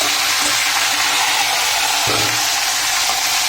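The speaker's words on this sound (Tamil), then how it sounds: "இது நல்லா ஃப்ரை ஆகணும்." Medium-sized eggplants frying in a pan make a continuous loud sizzle with a brief stirring scrape partway through, close up and without any talk.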